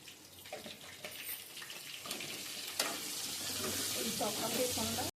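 Drumstick pieces fry with turmeric in a pan for an Andhra-style drumstick chicken curry, a hissing sizzle that builds and grows louder toward the end, close by, with no voices.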